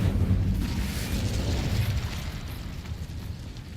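Incendio fire spell in Hogwarts Legacy erupting as a deep, booming burst of flame that rumbles loudly at first and then slowly fades over about four seconds, with no talking.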